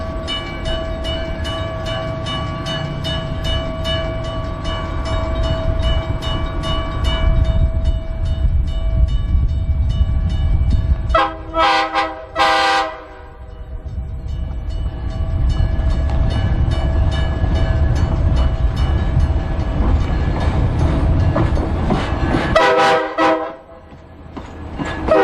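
Railroad crossing bells of the US&S teardrop type in Nanaimo, British Columbia ring steadily while a train rumbles past, with train horn blasts sounding twice over the continuous clatter.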